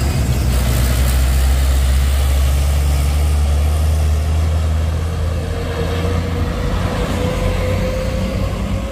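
Heavy Fuso intercooler truck loaded with a grass tractor, its diesel engine idling loudly and steadily on a steep hill road with a deep, constant low rumble.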